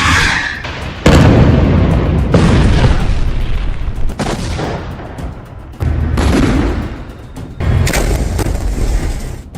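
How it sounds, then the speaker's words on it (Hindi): Bombing explosions in southern Lebanon come as a series of heavy, loud booms, each followed by a long rumbling decay, with several blasts spaced a few seconds apart. "इस धमकी के बाद अब दक्षिणी लेबनान में भी कारपेट बॉम्बिंग शुरू हो चुकी है"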